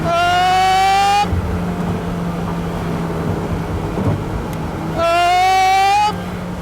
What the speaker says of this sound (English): I love supercharger noises.